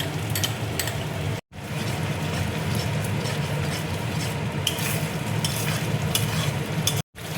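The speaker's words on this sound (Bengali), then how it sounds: "টক দইটা দিয়ে দিচ্ছি" A spoon stirs beaten sour yogurt into masala frying in a pan for egg curry, giving a steady loud sizzle with scraping strokes that runs nearly unbroken, with two brief gaps.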